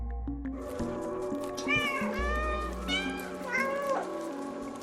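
A cat meows several times in a row in a video game, clear and close, over soft background music and faint ambient patter.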